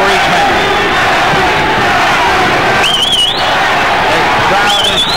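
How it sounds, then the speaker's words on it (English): An arena crowd at a WBC super bantamweight championship boxing bout roars and chants continuously, loud and dense, with whistles cutting through and a commentator's voice in the mix. "The crowd is shouting Banke, Banke."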